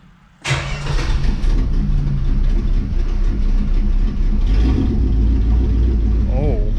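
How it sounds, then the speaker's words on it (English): A 1969 Dodge Charger V8 cranks and fires on a cold start, settling into a loud, rumbling idle right up close, with a person talking over the steady engine noise. "Figured you guys are a little overdue for a cold start."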